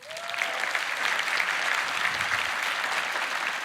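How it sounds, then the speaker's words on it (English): A crowd applauds steadily, dense clapping sustained at an even level throughout. "Let's give it a round of applause."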